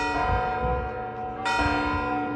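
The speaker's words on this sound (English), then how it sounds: "It's noon right now and the bells are ringing." Noon church bells ring loudly and close in Matera, Italy, two churches at once, overlapping strikes with long ringing tones that hang in the air.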